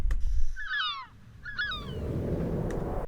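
Two quick seagull cries ring out as a sound effect, each a short series of high, falling squawks close by, followed by a low rushing swell.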